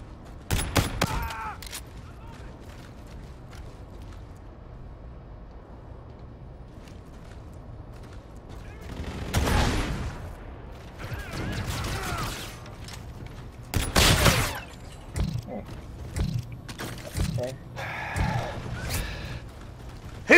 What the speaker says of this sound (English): Hear the shot.